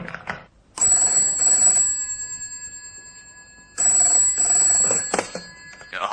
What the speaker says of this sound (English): Look, Hoggins, will you cut out the funnies, please, and make that phone call?